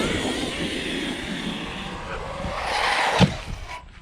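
An Arrma Outcast 8S RC car whines steadily as it drives, with the motor note swelling toward the end and a sharp knock near the close, heard from a short distance.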